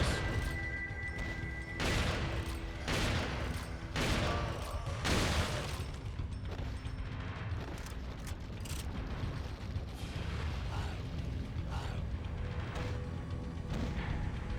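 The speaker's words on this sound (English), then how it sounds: "now you can just shotgun all the enemies" Gunfire and combat noise from Resident Evil 4 as a shotgun blasts enemies, with several loud broadband bursts in the first six seconds over dense, continuous game clatter and mechanical rattling.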